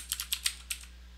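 A few quick keystrokes on a computer keyboard as a terminal command is typed on an Ubuntu machine, crisp and close in a quiet room, with five or six clicks in an uneven burst.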